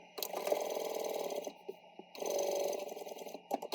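A sewing machine stitches a 5/8 inch seam on a fabric packing cube in two close, steady bursts of rapid mechanical whirring. A short pause with a few clicks separates them, and more clicks follow at the end.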